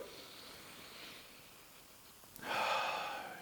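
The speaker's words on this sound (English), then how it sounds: "Let's sniff it out" A quiet, soft inhale through the nose, then a sharper, louder sniff near the end, close to the microphone, smelling Comme des Garçons WonderWood eau de parfum.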